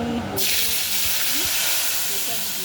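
Cumin and coriander powder paste mixed with water and salt hits hot oil for a Bengali paneer posto curry, giving a sudden loud, sustained hissing sizzle that persists steadily throughout.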